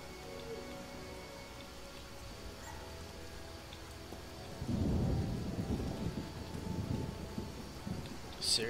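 In The Witcher video game, steady rain hisses while a deep rumble of thunder rolls in midway, swelling loudly and lingering under the continuing downpour.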